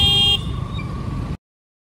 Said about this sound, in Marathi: खूप ट्रॅफिक असतं या रोडला खूप